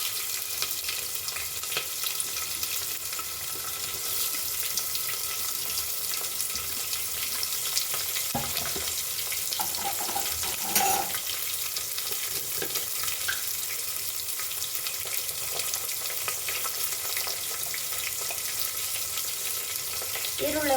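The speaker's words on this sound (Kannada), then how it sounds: "ಬೇಗ ಫ್ರೈ ಆಗುತ್ತೆ ಅಂದರೆ ಬೇಗ ರೋಸ್ಟ್ ಆಗುತ್ತೆ ಈರುಳ್ಳಿ ರೋಸ್ಟ್ ಆಗಲಿ" Onions and green chillies fry in plenty of oil in a pan, giving a steady, close sizzle across the whole stretch, with a few soft clinks and stirring scrapes and no talking.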